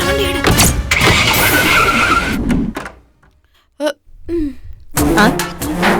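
A car pulls away in a Tamil TV drama scene: a loud burst of engine and tyre noise that drops off abruptly, followed by a couple of short, isolated knocks and a return of busy background sound.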